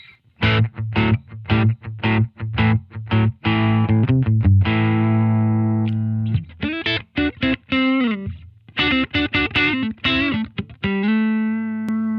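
An electric guitar played through a Wampler effects pedal, set fairly clean with the reverb turned off: quick strummed chords and picked single notes ring out loud and close, with a few held tones and no talking.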